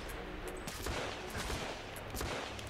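Gunshots in The Order 1886, a third-person shooter, sound as repeated sharp bursts over a steady busy backdrop of game noise, fairly loud and evenly spaced.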